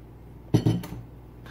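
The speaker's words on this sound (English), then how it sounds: "mix all together" Baking soda, salt and sugar are stirred together in a bowl, giving a few sharp clinks and scrapes of a utensil against the dish over about half a second, then quiet.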